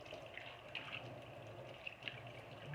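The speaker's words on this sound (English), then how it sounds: "you use the majority of cold water to rinse your face off" Cold tap water running while rinsing a face after a homemade coffee and egg facial, a faint steady trickle and splash, close by, with no talking.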